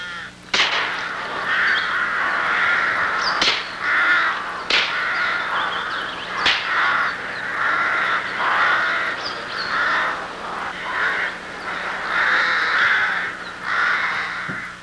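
Young rooks caw repeatedly in a rookery among the branches, a chorus of harsh overlapping calls that runs steadily with a few sharp cracks between them and no voices.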